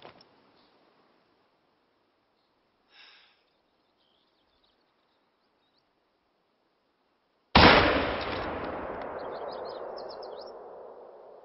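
A single loud rifle shot aimed at a fox in The Hunter: Call of the Wild, a sudden sharp blast followed by a long echoing decay, preceded by near silence and a faint brief sound.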